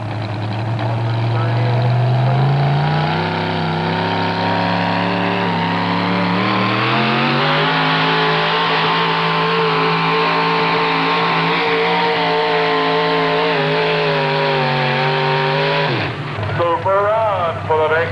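Chevrolet four-wheel-drive truck pull, Galax, Virginia: a loud sustained engine roar climbing in pitch as the truck revs and pulls, then dropping off near the end, with an announcer speaking over it.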